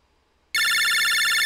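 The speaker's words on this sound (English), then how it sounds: "Lan, it's your phone" A phone rings in the Megaman Battle Network 5 video game: a bright, loud electronic trill with a pulsing, repeating pattern that starts abruptly after a short silence and carries on steadily.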